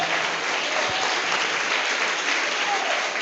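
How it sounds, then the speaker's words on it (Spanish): A church congregation applauds its pastor in a steady, loud wash of clapping that holds evenly throughout without pause. "Denle un aplauso a su pastor."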